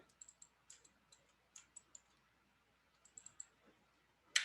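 Mouse clicks while modeling in Autodesk Maya come as sharp, quiet taps, several short bursts in irregular clusters against near silence, with a louder click at the end.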